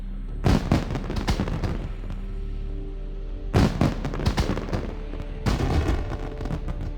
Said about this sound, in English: These fireworks need to be used in the vicinity of the appropriate launcher.